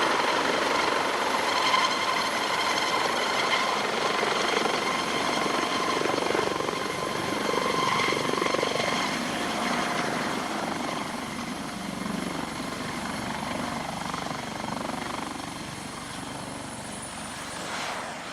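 A helicopter's steady rotor thrum and engine whine fill the whole stretch, loud and continuous, fading slightly toward the end.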